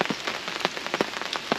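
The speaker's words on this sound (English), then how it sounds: "So again, it's raining right now." Rain patters on a hunting ground blind, a steady close hiss broken by quick, irregular drop taps on the fabric.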